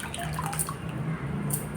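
Split moong dal being washed in water for crispy pesara garelu, with a steady close sloshing and trickling of water over the lentils, some faint drips, and no talking.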